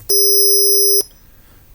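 A test signal with zeros inserted between samples sounds as a steady low tone under piercing high-pitched spectral copy tones, held loud for about a second and then cut off abruptly, with a faint click at the end.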